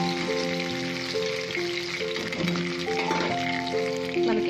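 Chicken pieces frying in butter in a pan for a roast snack, a steady close sizzle and crackle running throughout with faint tonal background hum, no talk.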